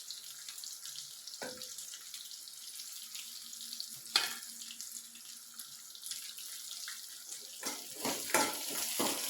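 Onion and two dried red chillies sautéing in a pan, a soft steady sizzle with scattered scraping stirs and a few louder clatters near the end, no voices.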